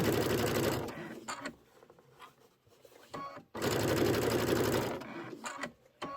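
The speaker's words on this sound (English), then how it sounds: "I'm going to do a little back stitch right here." A sewing machine stitches through the fabric of a pocket pillow in two loud sustained runs, with a short pause between them filled by quieter handling sounds.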